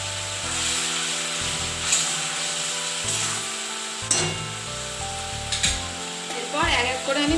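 Coriander leaves are stirred into a simmering bhola fish gravy, giving a soft steady sizzle with occasional scraping under loud background music.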